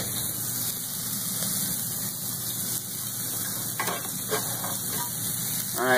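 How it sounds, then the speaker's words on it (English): Smashburger patties and onions fry in turkey frying oil on a hot griddle, giving a continuous close sizzling hiss with a few brief scraping bursts near the end. "can't you hear it sizzling already?"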